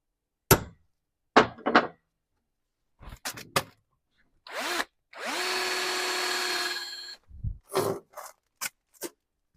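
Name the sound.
drilling into aluminium bracket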